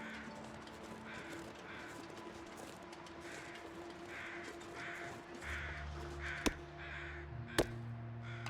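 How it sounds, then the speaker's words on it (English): Crows cawing in the survival game Gunloper, a series of evenly spaced harsh caws at moderate distance over quiet ambience, with a couple of sharp clicks near the end. "Here are crows"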